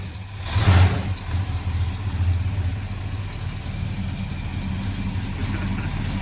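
A truck engine cranks and fires with a loud burst. It then settles into a steady low rumbling idle that carries on close by without talk.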